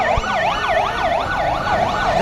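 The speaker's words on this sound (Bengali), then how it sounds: "R ambulance ambulance" A loud wailing ambulance siren sweeps rapidly up and down in a steady rhythm, close and continuous, with traffic rumble underneath.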